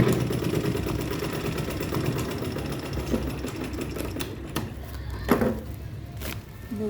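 Sewing machine stitching fabric for a bag, running steadily and close for several seconds, slowing with a few brief pauses and clicks toward the end.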